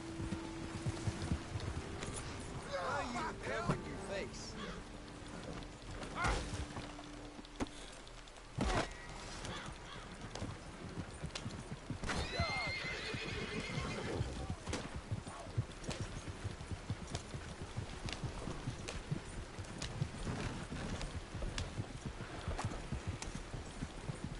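Hooves clip-clop in a steady rhythmic gallop across ground in Red Dead Redemption 2, with a brief neigh early on and occasional thumps and clatter, at moderate distance and without talk.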